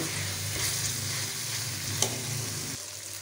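Chicken karahi sizzles steadily in oil in a karahi, with a few soft stirring scrapes and a sharp clink near the two-second mark. The low bubbling drops away just before the end. No one speaks.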